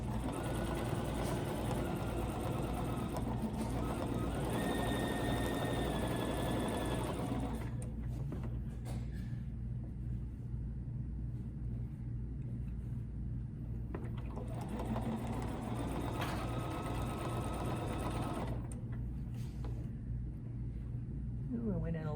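A sewing machine stitches a ruler-guided quilting line, its motor whirring steadily and loudly up close, easing off briefly in the middle and near the end before running again.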